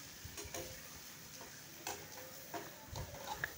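Spoon stirring spring onions into Schezwan fried rice in a pan, quiet scraping and light sizzle with a few soft clinks, faint and close, no voices.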